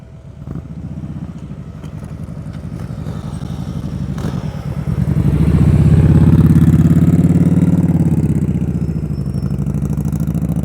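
A motorcycle fitted with a car tire on the rear rides slowly through a cone course during an advanced slow-speed practice session, its engine a steady mid-pitched idle-like rumble that swells louder midway and holds.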